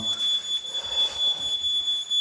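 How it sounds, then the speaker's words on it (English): An electronic alarm sounding inside a ruined abandoned mansion, a steady high-pitched tone ringing continuously over a noisy, hissy room background. "Is that an alarm? Sounds like it."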